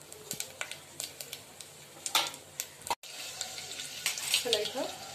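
Mustard seeds, cumin and garlic cloves tempering in a little oil in a pot for dal, giving a steady close frying hiss with scattered crackles and pops and a brief stir.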